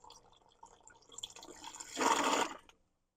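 Water drains and sputters from a fixture in a Newmar Ventana 4037 RV during winterizing, starting as a faint trickle and swelling into a louder, steady rush for under a second before stopping.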